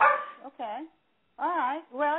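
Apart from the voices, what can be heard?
dog barking in the background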